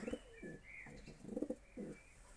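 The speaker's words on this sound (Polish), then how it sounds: "Jestem u gołębi." Soft, low coos of white pigeons in a loft repeat in a loose rhythm, several rounded bursts close by, with faint chirps from other birds in the background.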